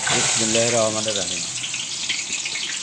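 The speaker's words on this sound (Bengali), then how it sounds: "এই যে আব্বাই তেলের মধ্যে পেঁয়াজ ছেড়ে দিতেছে।" Onions dropped into hot oil while cooking goat meat with spices hiss and crackle in a bright, steady sizzle, with a voice talking over the start before the frying carries on alone.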